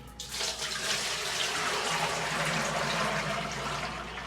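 Olive oil pours from a pot tipper in a soap-making setup, a steady splashing liquid stream running close and moderately loud for a few seconds before easing off.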